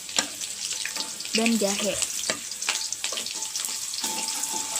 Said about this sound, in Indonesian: Tumis hingga harum.